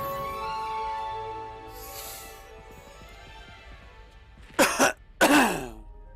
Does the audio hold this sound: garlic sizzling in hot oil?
no